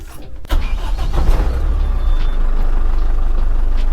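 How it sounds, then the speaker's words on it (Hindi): A vehicle engine cranks and catches after a brief quiet moment, then settles into a steady, loud low idle that continues to the end. "अब व्हीकल को स्टार्ट करते हैं और देखते"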